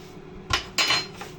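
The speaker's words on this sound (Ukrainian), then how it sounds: "І хорошенько все розмішую." Two brief clattering scrapes of a utensil stirring hot potatoes with olive oil in a bowl, close up, with a quiet pause between them and no talking.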